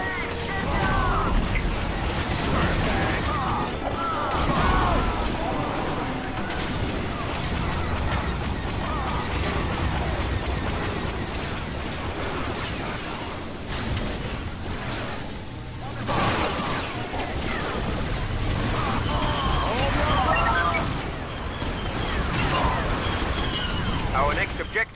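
A grenade explosion and gunfire in the Star Wars Battlefront 2 video game, a cutscene battle with heavy booms, rolling blasts and bursts of shots mixed over shouting voices throughout.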